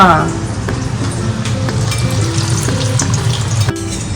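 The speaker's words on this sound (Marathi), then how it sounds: "मग आता आपण तळून घेते" Sambar vadi, stuffed pockets of Vidarbha style, fry in hot oil over a medium flame, a steady close bubbling sizzle with light clinks of a utensil, under a voice speaking.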